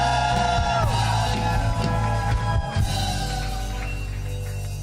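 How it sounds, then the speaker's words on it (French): A church congregation cheers and shouts cries of joy during worship, loud yells and whoops rising over sustained music with a crowd all around. "Pousse encore des cris de joie."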